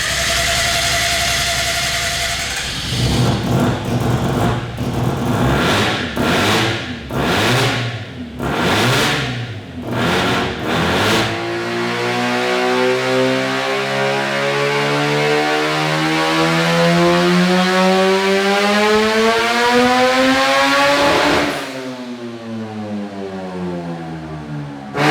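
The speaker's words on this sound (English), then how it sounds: "Right, so it's the first dyno pull, 16 pound of boost, fairly rich in the top end" A Mazda RX-7 FD rotary engine running 16 psi of boost makes its first dyno pull, opening with sharp blips and pops before a long, loud, rising rotary wail that tops out and then drops away, with no talking.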